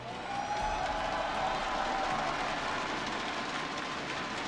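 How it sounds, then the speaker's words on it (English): A large arena crowd at the Hearthstone World Championship final day cheers and applauds in a dense, steady roar that fills the whole stretch at moderate loudness, with no clear voice on top. "Thanks for cheering, all of you."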